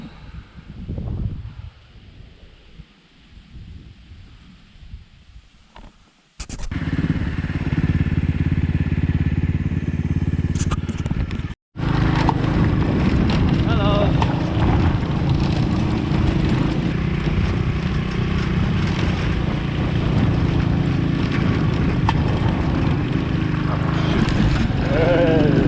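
A motorcycle engine drones loudly and continuously while climbing a mountain road in Vietnam, following a quieter opening with some rustling and a voice; the steady engine noise dominates after a brief cut.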